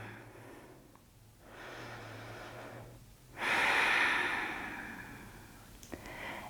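Slow, deep breathing during a slow at-home yoga session, with long audible inhales and exhales rising and falling close to the listener, alone with no talk.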